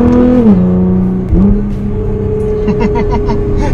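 A 600 hp Nissan R35 GT-R engine roars loudly from inside the car, its pitch dropping and then sharply blipping up on two quick downshifts before settling into a steady drone with faint crackles.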